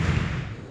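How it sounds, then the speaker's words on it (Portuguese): Judo throws landing on a tatami mat at a sports competition: a dull, heavy thud of a body hitting the mat, close and loud, with a low boomy tail fading over under a second. "É aquela pancada no tatame, e aí você está vendo os golpes do judô"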